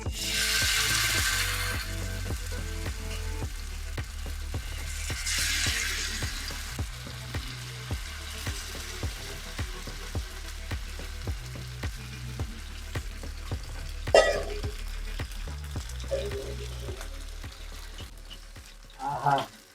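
Steady sizzling of fish frying in hot oil, continuous and close, with a few light clinks and taps from a utensil now and then.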